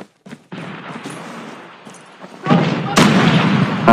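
Gunfire bursts in a squad-based shooter video game match, loud sharp shots swelling over the second half and layered over background game noise, with brief voices in the mix.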